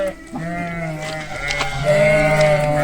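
A flock of sheep bleats loudly and close by, several overlapping calls in quick succession with no pauses between them.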